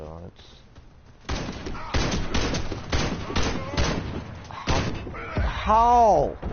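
Gunfire from a weapon in the Warface shooter game: a series of loud, evenly spaced shots, some closer together, ringing out with a voice talking over parts of the sequence.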